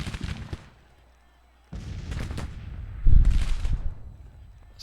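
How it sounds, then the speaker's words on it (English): Artillery fire in a Civil War strategy video game set in 1862, heavy booming blasts in separated bursts with a short silent gap, each followed by rumbling decay, with faint voices underneath. "Artillery is taking, just unloading on these guys"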